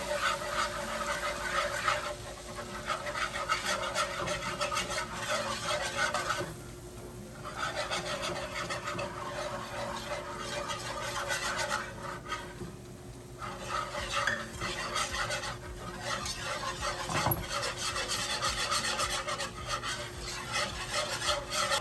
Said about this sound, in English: I'm gonna add 1/2 cup of flour and whisk that all around